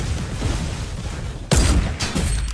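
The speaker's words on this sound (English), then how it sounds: "the way it feels to shoot and then get the headshot sound effects" A sniper rifle shot from the video game Fortnite is followed about half a second later by the headshot hit effect: two sharp, loud bursts over a steady background rumble.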